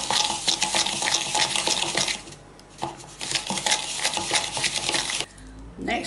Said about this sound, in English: So I'm going to mix these together to make a very, very flavourful paste